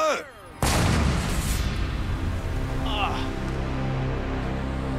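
An M777 howitzer fires with a sudden, massive boom, its blast rolling and echoing away for several seconds while voices react faintly.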